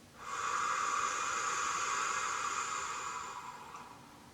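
A deep, slow exhale through the nose or mouth during a neck stretch, a close breathy hiss lasting about three seconds before fading out.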